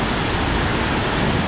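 Mother Falls in Baler, Aurora pours in a dense, unbroken roar of falling water, loud and close with no voices.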